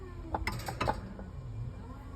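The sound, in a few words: Kamado Joe Big Joe grill hinge squeaking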